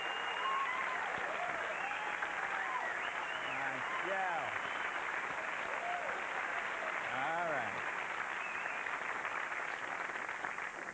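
A studio audience applauds steadily throughout at a live comedy talk show taping, a dense even wash of clapping, while someone speaks briefly over it.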